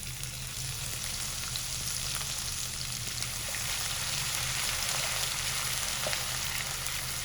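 Coarsely hand-crushed ginger and garlic frying in a pot, giving a steady, even sizzle like light rain that holds at moderate loudness throughout over a low background hum.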